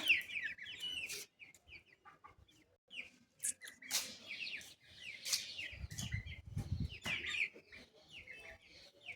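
Chickens cluck and squawk repeatedly in bursts close by, with a few chirps mixed in and some low rustling noise midway.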